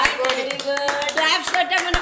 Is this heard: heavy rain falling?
no